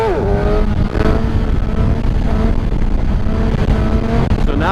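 A motorcycle engine holding third gear at about 5,000 RPM while rolling near 50 miles an hour, a loud steady drone with slight pitch wavering and constant wind rush throughout.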